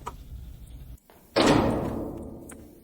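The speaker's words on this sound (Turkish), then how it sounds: "kapı açıldı" A door bangs open after a short silence, a loud close thud followed by a lingering rumbling decay in an indoor space.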